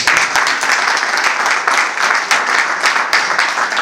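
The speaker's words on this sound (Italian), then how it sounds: "Qua ci vuole un applauso." Loud, close applause from an audience at a company event, dense clapping filling the whole few seconds without letting up.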